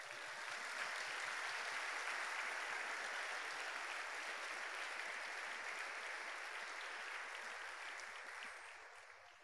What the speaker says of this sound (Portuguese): Vamos aplaudi-lo por isso?